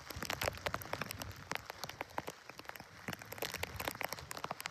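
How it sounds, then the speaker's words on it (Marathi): Heavy rain pours down on a mountain trek, a dense, steady patter of drops hitting the ground and leaves all around, fairly soft in level and with no voices. "आता एवढ्या जोरात पाऊस आला ना, खूप भारी वाटते."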